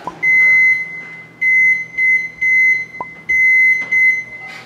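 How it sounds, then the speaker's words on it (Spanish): A microwave oven softening butter beeps loudly and close by in a series of short, evenly spaced tones with brief gaps, then a longer beep after a pause. No voices are heard. "La voy a meter un poquito al microondas para que esté suave."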